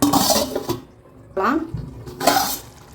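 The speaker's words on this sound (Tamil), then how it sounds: "மூடி வச்சிடுறேன்." Metal lid set onto a pan of simmering paneer gravy, with a few distinct clanks and clinks of cookware separated by short quiet gaps, close and moderately loud.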